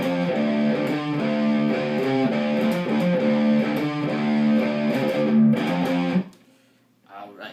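Distorted electric guitar playing an interlude, repeating a chugging riff with fast pull-offs over several bars, close and loud, then cutting off into near silence with a brief faint noise at the end.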